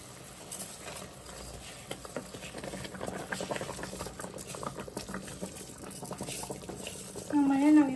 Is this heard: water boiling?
yes